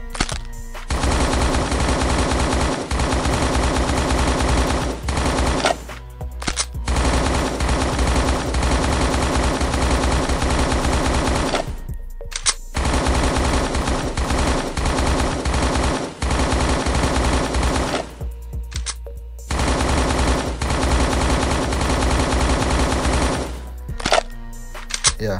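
Rapid automatic fire from the Ice Crystal Rifle in the Roblox game Cops N Robbers rattles out in four long, loud bursts separated by short pauses and reload gaps.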